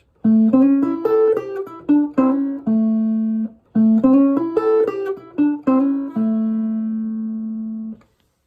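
A clean electric guitar plays a short Chicago blues lick twice, with plucked notes and bends, ending on a long sustained note that slowly fades.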